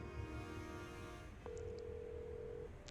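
Push-button telephone tones as a phone number is keyed in: a steady tone, a short click, then another sustained tone held for about a second, all fairly quiet with no voices.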